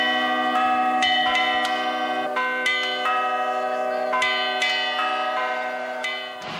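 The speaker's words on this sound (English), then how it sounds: "200 years of the United States Constitution with a bell ringing ceremony" Bells ring in a 1987 ceremony at Purdue University marking 200 years of the United States Constitution, loud sustained ringing tones with repeated strikes overlapping in a steady, resonant wash.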